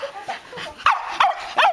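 Dogs at a playdate let out a quick run of sharp barks and high yips, close by and loud, the last few sounding strongest.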